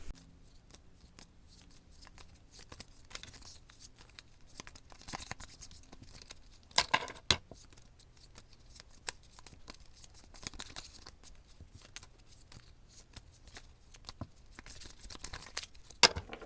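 A deck of oracle cards being shuffled, with cards pulled from it. Quiet papery riffles, slides and snaps recur irregularly throughout against near silence, with brief louder flurries.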